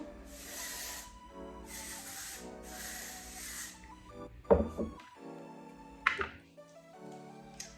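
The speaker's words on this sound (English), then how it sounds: "Dry Texturizing spray." Three quick hissing sprays from an aerosol can of dry texturizing hair spray, evenly spaced, followed by a couple of soft knocks and clatters, with music playing quietly underneath.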